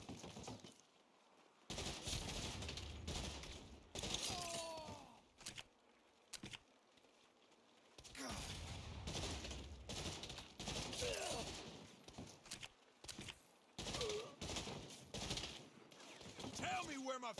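Gunfire in the Saints Row video game, loud bursts of rapid shots in dense clusters separated by short quiet gaps, with shouted voices and game dialogue mixed in.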